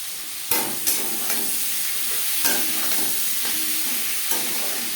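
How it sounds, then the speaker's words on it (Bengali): Onion, tomato and garlic sizzle steadily in a hot pan while a spoon stirs, scraping and knocking against the metal in a few sharp, close taps over the constant frying hiss. "পেঁয়াজের সাথে টমেটো রসুন বেশ ভালো করে মিক্স করে দেব"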